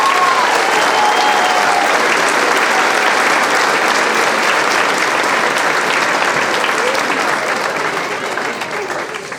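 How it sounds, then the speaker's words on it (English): A dense, loud wash of applause from an audience at a senior awards dinner honoring graduates and their parents, sustained for several seconds before tapering slightly at the end. "Let's have a round of applause for all of them."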